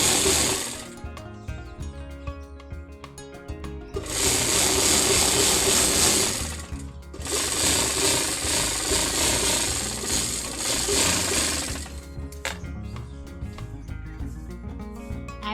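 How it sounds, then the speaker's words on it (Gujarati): A sewing machine stitches through doubled fabric in bursts, its rapid mechanical whirring rising and stopping several times at close range, with quieter pauses between runs. "તો એને આવી રીતે સિલાઈ મારી દેવાની છે."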